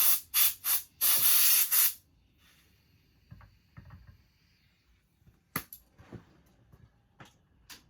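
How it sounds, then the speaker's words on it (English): Several short bursts of hissing spray from an HVLP automotive touch-up spray gun, then a longer one, followed by quiet clicks and rattles of handling and a few more brief sprays. "this gun here is an automotive touch-up gun. It's a HVLP"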